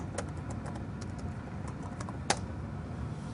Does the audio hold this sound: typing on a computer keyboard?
yes